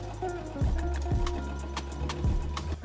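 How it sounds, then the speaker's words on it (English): A sewing machine stitching the side seams of sleeves for a summer jumpsuit, a steady low mechanical whir with rhythmic thumps from the needle, close and continuous. "I'm now going to sew together the side seams of the sleeves."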